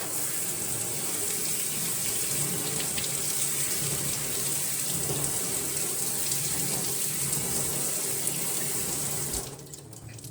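Spray of water from a tap rinsing cucumber seeds and gunk, a steady continuous gush that runs almost the whole time before cutting off near the end.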